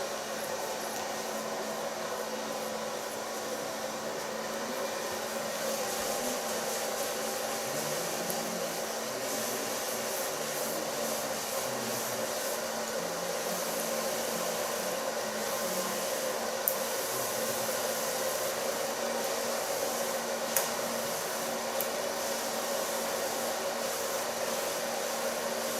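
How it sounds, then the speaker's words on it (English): Hair dryer blow-drying hair with a medium-large brush during a copper-colored undercut styling, a steady loud continuous whir running unbroken throughout with faint brushing ticks, no talking. "Blow dry the hair with a medium large brush."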